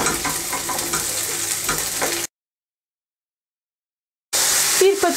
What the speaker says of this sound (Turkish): Soğanlar pembeleşene kadar kavuruyorum.